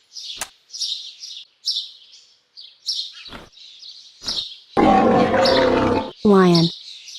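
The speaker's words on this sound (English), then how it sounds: "Lion." Lion roar from a children's animal-sounds recording, a loud, broad roar lasting over a second near the end, following a series of high chirping bird calls, with a short tonal call right after it.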